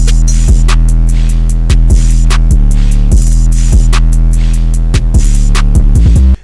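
A trap beat drum pattern in a grungy style built in FL Studio 20, with deep 808 bass hits and sharp percussive transients over a steady sustained low drone, playing loud and continuous with no talking.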